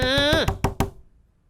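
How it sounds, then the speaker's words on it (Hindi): A door is knocked about three times in sharp, quick raps, heard close, with a voice heard just before the knocks. "गलत दरवाजा क्यों खटखटा रहा है?"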